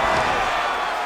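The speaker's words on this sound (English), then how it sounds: "Oh, slams him down with authority, DC." A fighter is slammed hard to the mat in the UFC 5 video game, a short burst of impact buried in steady crowd noise and cheering from a packed arena.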